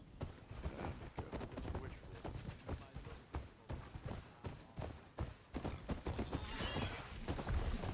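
A riding machine in Horizon Forbidden West gives a mechanical neigh among rhythmic clip-clop hoofsteps, steady and close, with the gait continuing throughout and a louder whinny near the end.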